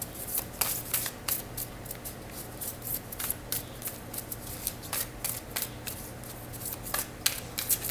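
Tarot cards being shuffled, a steady series of crisp riffling bursts and flicks repeating close up for several seconds with no talking.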